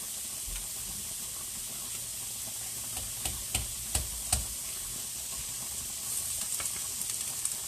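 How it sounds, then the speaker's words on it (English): Drained noodles drop into a hot pan of vegetable stir fry, setting off a steady, close sizzle and hiss with a few sharp spits and pops partway through, and no talking. "now it's time to add the noodles to your stir fry"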